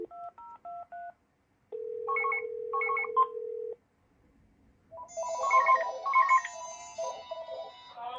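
A Motorola L402C cordless phone gives two electronic rings made of warbling, chirpy tone bursts, preceded by short keypad-style beeps and a steady tone; the rings are clear and close with brief silences between them.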